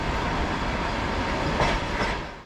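An Uzbek sleeper train pulls out of Tashkent Janubi station, giving a steady, close rolling rumble with a faint clickety-clack of wheels on rail joints and a brief brighter screech near the end.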